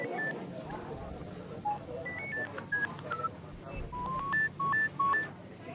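Telephone keypad tones, a string of short beeps in uneven bursts as a number is punched in, with a voice speaking faintly underneath.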